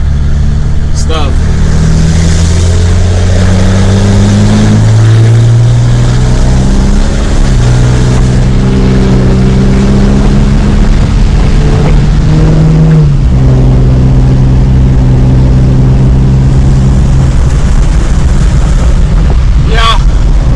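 A 6.7 Cummins diesel truck fitted with a Smeding S369 SXE turbo rumbles loudly with deep, steady exhaust drone that swells and shifts pitch as it accelerates, continuous throughout with a brief dip midway.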